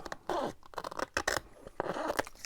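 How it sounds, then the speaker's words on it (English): Scissors cutting and trimming fabric, several crisp snipping and rustling strokes close by in short bursts, no talking. "And then I'm going to cut that out, trim it off."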